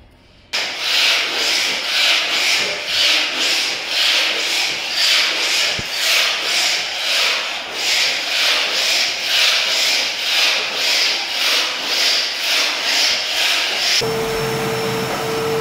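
Scraping loose epoxy flakes off a floor gives a loud, steady abrasive rasp with regular rhythmic pulses of strokes for about 13 seconds, ending in a brief quieter tone with a steady hum.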